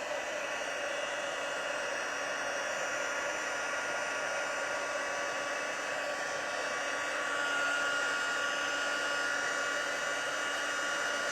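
A heat tool melting embossing powder for a card project blows a steady, loud, close hiss of air, unbroken and alone for the whole stretch.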